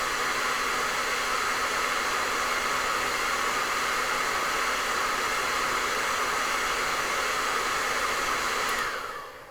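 A hair dryer blows steadily and loudly on wet paint of an eagle painting, a continuous even whoosh that runs for several seconds and then winds down as it is switched off.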